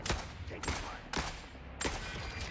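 An RPK machine gun fires in the video game The Forever Winter, giving four loud, sharp bursts spaced roughly half a second apart, each with a short echoing tail.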